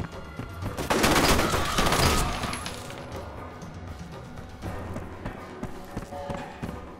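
A loud burst of rapid three-round burst fire from the ASP rifle in the video game F.E.A.R., followed by scattered shots, clicks and clatter against a steady background rumble.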